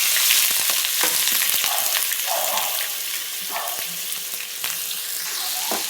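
Carrots, beans, potato and tomato cooking in a pan for shavige uppittu, a continuous bright sizzle with scattered clinks and scrapes of stirring, close and fairly loud.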